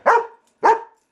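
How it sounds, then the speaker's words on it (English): A dog gives two loud, close barks about half a second apart, each sharp at the start and quickly fading, with silence between them. "Don't just bark."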